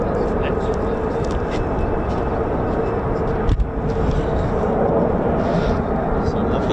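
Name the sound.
F-15 or F-35 fighter jet departing RAF Lakenheath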